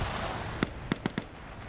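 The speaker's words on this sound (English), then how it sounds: "Did you just throw a frag?" Four short, sharp blasts spaced unevenly over about half a second, distant and fairly faint over steady background noise, from a frag grenade going off in a multiplayer PvP video game match.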